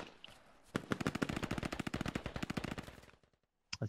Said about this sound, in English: See if Ram reacts to that M4 fire.